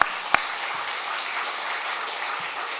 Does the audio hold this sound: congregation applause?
yes